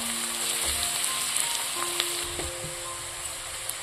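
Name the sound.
garlic paste frying in a pan for mutton fat ghugni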